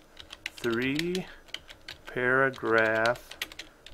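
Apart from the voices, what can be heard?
typing an assignment description on a computer keyboard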